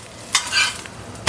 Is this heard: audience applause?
no